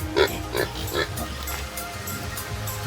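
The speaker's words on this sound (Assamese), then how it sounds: "এইটো অলপ লেতেৰা আছে গাহৰিকেইটা, আমাৰ চুনু মুনুকেইটা।" Pigs in a pen on an Assam pig farm grunt in short rhythmic bursts, close and moderately loud, with a little background noise.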